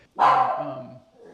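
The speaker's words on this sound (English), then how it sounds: "sorry about the barking" A dog gives one loud, close bark with a short trailing yelp, in an otherwise quiet room.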